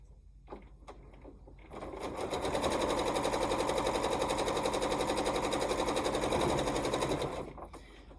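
A sewing machine stitches a fabric strip in one steady, rapid run of about five seconds, rising from quiet handling clicks and stopping abruptly, close and loud.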